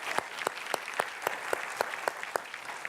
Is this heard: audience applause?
yes